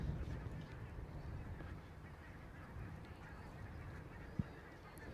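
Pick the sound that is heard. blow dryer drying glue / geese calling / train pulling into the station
geese calling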